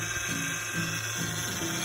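A car's power steering whines in a steady, grinding tone that wavers in pitch, loud and continuous without any talk over it.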